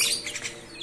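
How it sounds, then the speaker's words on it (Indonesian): A talking starling (jalak) gives a brief, bright chirping call, several quick close-up notes in under a second. "itu jalak-jalak yang beberapa jalak yang bisa ngomong"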